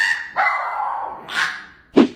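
A dog gives a drawn-out howling awoo, a long wavering vocal tone followed by a second rising howl and a short sharp yelp at the end, close and clear with no talking.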